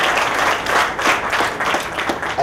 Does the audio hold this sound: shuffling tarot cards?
no